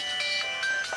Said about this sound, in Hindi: इस नंबर से बार बार फोन आ रहा है